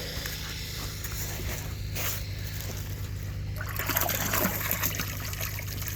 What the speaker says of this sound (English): pretty clean water coming out